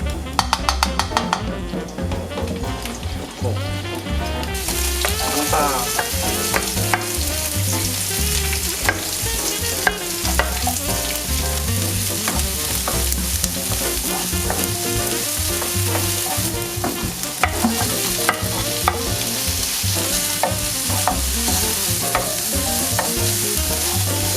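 Minced garlic fries in oil in a pan, a steady sizzle running throughout with frequent scraping stir strokes, loud and close with no talking.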